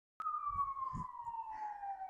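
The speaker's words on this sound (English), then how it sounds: "Sorry about the sirens in the background." A single siren wails steadily from a distance, its tone sliding slowly downward, with faint low rumbling beneath it.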